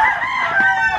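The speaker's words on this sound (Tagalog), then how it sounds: "Ang daming manok." A rooster crows among many chickens along a trekking trail in Taal, Batangas, giving one loud, close, sustained crow with no talking.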